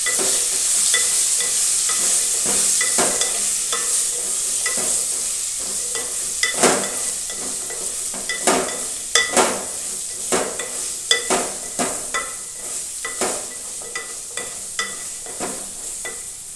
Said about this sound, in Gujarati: હવે આપણે તેને બરાબર હલાવીએ છીએ